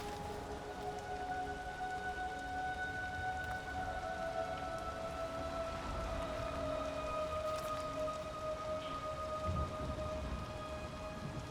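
Steady rain falls throughout under a game scene, with tonal musical drones layered over it and a faint low rumble like distant thunder.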